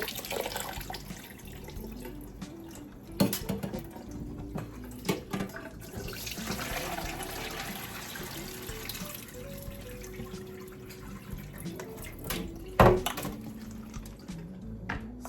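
Ofada rice is rinsed in water at a kitchen sink, with running tap water, splashing and sloshing over about fifteen seconds, broken by occasional clunks and rattles of the bowl, fairly close and moderately quiet.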